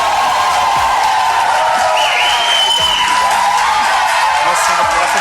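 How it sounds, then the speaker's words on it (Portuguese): An audience claps steadily and loudly at the start of a Brazilian podcast event for its presenter, with voices mixed in over the dense clatter. "Dá um aplauso aí pro nosso Ricão aí."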